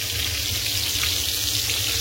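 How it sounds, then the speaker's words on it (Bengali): Fish frying in a pan during home cooking for a wedding turmeric ceremony, a steady broad hiss and sizzle with a low hum underneath, continuous and close, no talking. "আর এই যে এই যে ভাজা বসিয়ে দিছি, খেয়াল এই যে মাছ ভাজা বসাইছি"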